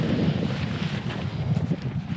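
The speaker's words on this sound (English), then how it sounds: "Clearly see now there is a little bit of wind" A light wind blows steadily over open water with a soft, continuous rushing hiss and low rumble, outdoors, with no voices.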